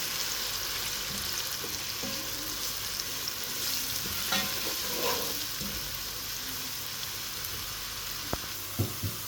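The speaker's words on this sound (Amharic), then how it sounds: "ከዛ ትንሽ ዘይት ይሞቅና ሽንኩርቱን እንጨምራለን።" Onions fry in heated oil in a cooking pot for an okra stew, giving a steady, close sizzle and crackle that runs throughout with a few soft stirring knocks and no voices.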